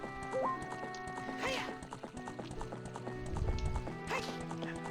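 A horse trots along in Zelda: Ocarina of Time, its hooves clip-clopping in a quick steady rhythm over game music, with short whinnies near the middle and end.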